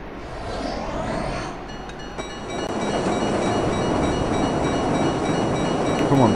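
Train rumbling past in the game Marc Ecko's Getting Up: Contents Under Pressure, a heavy rolling roar that swells and holds loud and near for several seconds, with no speech over it.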